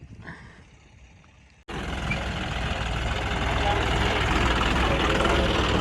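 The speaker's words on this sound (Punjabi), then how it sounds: "4x4 ਟਰੈਕਟਰ ਆ ਦੇਖੋ" After a quiet start with some voice, a heavy 4x4 tractor engine suddenly rumbles up and keeps running loud and steady at a low idle.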